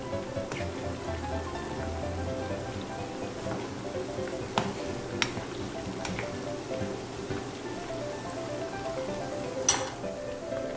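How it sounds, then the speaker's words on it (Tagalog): Chopped garlic frying in oil in a pan alongside peanuts, a soft continuous sizzle with faint crackles and a few sharp pops or utensil clicks, steady and close with no talking. "antayin na lang natin siyang mag-brown yung garlic"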